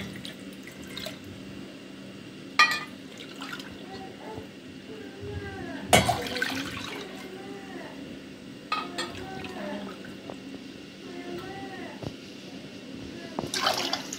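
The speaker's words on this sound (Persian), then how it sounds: "برای شربت 3 تا لیوان آب میرزم" Three glasses of water poured into a pot to make syrup for Persian saffron kachi, a gentle continuous stream with a few sharper splashes and clinks of glass against the pot, heard close in a home kitchen.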